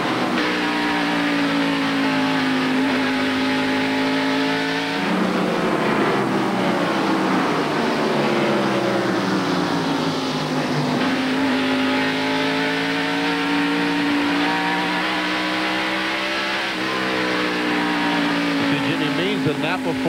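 Chevrolet and Ford NASCAR stock cars race in the 1993 Bud 500, with loud, continuous engine roar and rising and falling pitch as cars pass close, sustained throughout.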